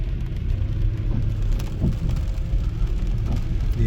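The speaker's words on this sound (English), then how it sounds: "Very rainy day, and it's gonna be all day raining in New York City." Heavy rain pours onto a Queens street in New York City while car traffic rolls past, a thick, steady wash of rain hiss over a low rumble of engines and tires on wet pavement.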